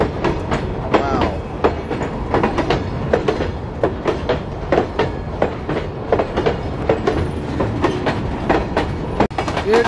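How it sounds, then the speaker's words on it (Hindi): Train wheels clatter over the Bhusawal railway diamond crossing in a loud, rapid, rhythmic clickety-clack of repeated impacts, close by and steady, with a faint squeal in places. "ये ट्रेन ने पकड़ लिया अभी स्पीड।"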